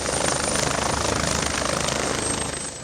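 A medical transport helicopter's steady rotor chop and engine whine, loud and close as it lands, holding constant for a few seconds with no voices.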